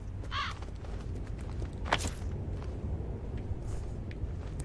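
Crows caw in the ZombiU video game, a couple of short harsh calls over a low ambient rumble, with a faint scuffle of movement.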